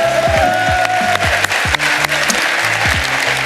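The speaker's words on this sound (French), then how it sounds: "Allez, on applaudit." Audience at a WikiStage Algiers event applauds as a guest steps onto the stage, with steady, loud clapping over a pulsing low rhythmic sound underneath.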